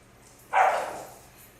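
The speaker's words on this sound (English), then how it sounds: "I'm going to grab the dogs because they are barking" A single dog in The Sims 4 game gives one sharp, moderately loud bark that tails off quickly over faint background ambience.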